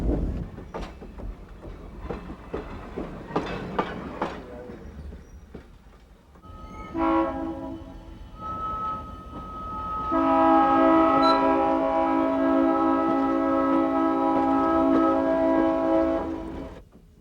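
A train rolling through countryside, with clattering wheel noise and thumps at first, then a long loud horn blast held for several seconds near the end.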